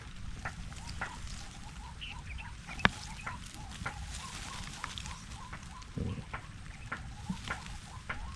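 Faint clucking fowl and scattered bird calls sound repeatedly over a low background rumble, with one sharp click partway through.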